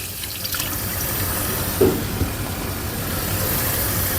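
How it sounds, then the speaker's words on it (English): Tap water runs while dentures are rinsed, a steady moderate rushing stream with a couple of small knocks from handling partway through. "I'm rinsing the dentures."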